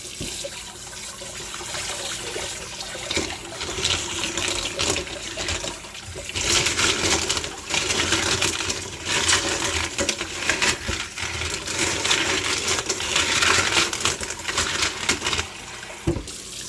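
Water runs and splashes steadily over Mexican lace agate stones being rinsed, with faint clicks of stones shifting throughout and the rushing sound swelling and easing in waves.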